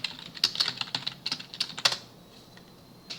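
Quick bursts of keystrokes on a computer keyboard as a username and password are entered, a fast uneven run of close, crisp clicks that stops abruptly, leaving near silence with one last tap.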